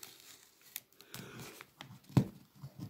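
Tape-sealed parcel being torn open by hand, with crinkling and ripping bursts scattered through the clip and one sharp loud tear near the end, close up and without talk.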